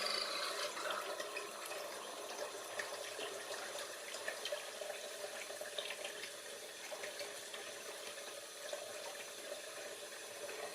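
Water pump running steadily, a continuous rushing, splashing flow of water like a filling sink, close and even throughout with no voices.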